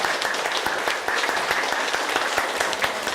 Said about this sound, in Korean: 우리 일본에서 오신 모든 분들 응원하는 의미로 힘찬 박수 다시 한번 부탁드립니다